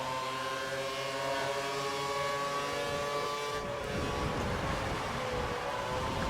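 Formula 1 cars racing in a pack at Spa in F1 2012, a continuous loud high engine whine with shifting revving tones and a rougher roar building toward the end, no talking.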